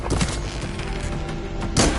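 Soldiers in a video game fire their guns in a volley, with a dense crackle of gunfire throughout, a burst early on and a louder close shot near the end.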